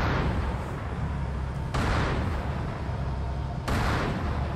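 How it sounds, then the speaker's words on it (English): Heavy gunfire in Halo 2 aimed at a distant Wraith, a dense roaring barrage with two sharp bursts breaking through the sustained blasts, loud and continuous. "I shoot that Wraith way off in the distance"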